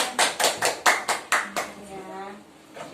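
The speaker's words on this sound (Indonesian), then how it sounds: "Tepuk tangan buat kelompok 2" A class claps in unison for a student group in a Quran lesson, about seven sharp, evenly spaced claps in a quick rhythm that stop abruptly, followed by a voice speaking.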